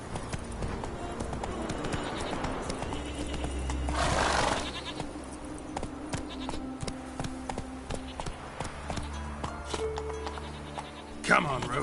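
Galloping hooves of a horse in a PS4 game, a steady rhythmic pounding mixed with game music and ambient sounds, with talk heard at moments.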